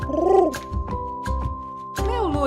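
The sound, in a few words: pigeon cooing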